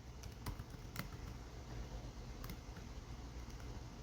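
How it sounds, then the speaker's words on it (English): Quick, light keystrokes tap on a computer keyboard in short irregular bursts, faint and close, over a low steady room hum with no talk. "We'll type in response"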